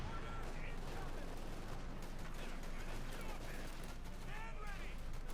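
Rifle and light machine gun fire crackle continuously in a Company of Heroes 2 World War II battle, with dense overlapping shots and some mechanical clatter.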